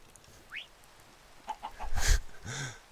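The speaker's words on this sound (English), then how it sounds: "Ah, those birds are just too great." Minecraft chickens clucking close by. A few short clucks and squawks are scattered over a quiet background, with one louder cluster near the middle.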